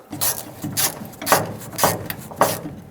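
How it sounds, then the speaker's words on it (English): A hose clamp on the filler neck of a 1999-2007 Ford F-350 is tightened, with about five evenly spaced ratcheting clicks close to the microphone. "Make sure this is bottomed out and bring this clamp over. Tighten this one as well."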